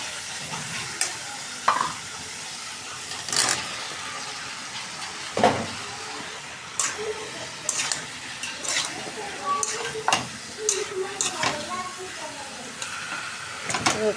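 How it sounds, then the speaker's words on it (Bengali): Spice paste for a pabda fish curry with potato and eggplant sizzles in a wok, with frequent sharp scrapes and clatters of a spatula stirring against the pan, while a person talks over it. "মশলাটা কষাই নিতেছি, সব মশলা দিয়ে দিছি পাবদা মাছটা রান্না করার জন্য"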